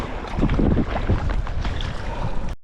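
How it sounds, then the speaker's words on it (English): A sea kayak is paddled along a windy coast, with close splashing paddle strokes and water sloshing under rough wind buffeting the microphone. "But for now, let's do some paddling."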